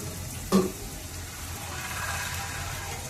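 Curry leaves and vegetables fry in hot oil for a bottle gourd curry, giving a steady close sizzle with one sharp pop-like clatter early on before settling back to even crackling.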